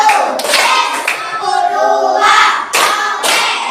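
A classroom of students performs a rhythmic tepuk semangat clapping chant, with loud sharp bursts of unison claps in a patterned beat alternating with sung or chanted voices.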